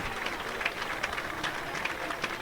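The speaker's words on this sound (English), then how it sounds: "let's give him a big round of applause" A crowd at a high school football game claps for the referee in dense, steady applause, moderately loud, with faint voices mixed in.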